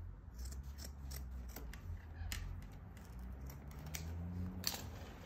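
Scissors snipping boat trailer bunk carpet close by, a quiet series of crisp irregular cuts and clicks over a low background hum.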